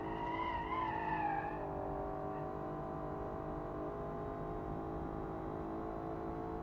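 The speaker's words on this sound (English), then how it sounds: "So power sliding this thing is not bad." A 90s-style drift car in a racing video game power slides as its tires squeal and skid over a steady engine drone, the squeal wavering at first and then settling into a long sustained tone.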